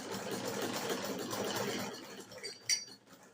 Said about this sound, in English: just continue stitching now right to the end